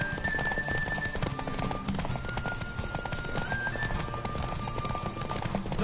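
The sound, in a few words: horse galloping in a race, from video game The Witcher 3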